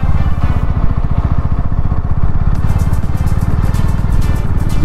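A Bajaj Pulsar NS motorcycle engine runs steadily up close after engine work, with a fast, even ticking pulse through the whole stretch and no one talking.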